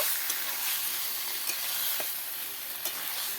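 Fried ridge gourd goes into a pan of frying potatoes for a poppy-seed dish, giving a soft, continuous sizzle broken by occasional light clicks of stirring, with no talking.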